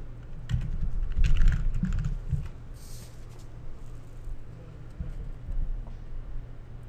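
Close, brisk clicking of keys as a username and password are typed on a computer keyboard, in quick bursts with short pauses, no talking.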